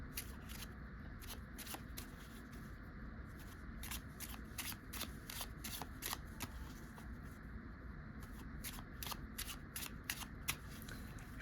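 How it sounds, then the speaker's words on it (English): Playing cards get an overhand shuffle, a quiet, close run of crisp riffling slaps and flicks in quick irregular bursts, with no talking. "let's get into the first shuffle, which is an overhand shuffle."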